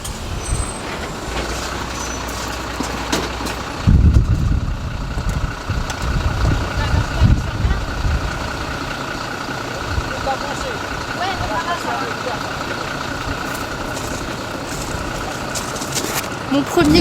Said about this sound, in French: Mon premier gros camion.